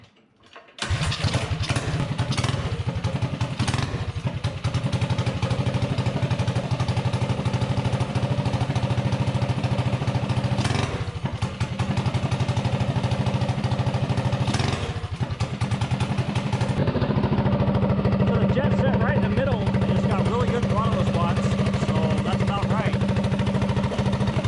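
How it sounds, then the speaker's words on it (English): A small mini bike engine, its carburetor freshly tuned, fires up and runs loud and close. The throttle is blipped a few times to test mid-range response, and the engine then settles into a steady higher-pitched run. "So now I will fire it up and we'll test the"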